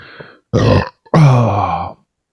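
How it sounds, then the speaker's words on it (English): A person burps twice, a short belch followed by a longer, drawn-out one after a brief pause, close and loud with no talking. "Anyone with misophonia, I did just burp."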